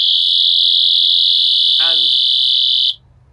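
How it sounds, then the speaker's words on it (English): Personal safety alarm with strobe, pulled to set it off: a piercing, steady high-pitched shriek, very loud and close, holding for about three seconds before cutting off abruptly, with a brief voice underneath. "It is incredibly loud, and there's the strobe effect, so that's going to draw attention to you."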